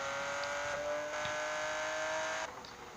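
Engine of the most expensive car in the game Gangster Vega accelerating, a steady droning motor with a rising whine that holds for a few seconds before easing off near the end.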